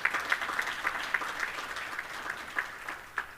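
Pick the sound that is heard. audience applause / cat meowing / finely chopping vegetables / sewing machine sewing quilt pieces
audience applause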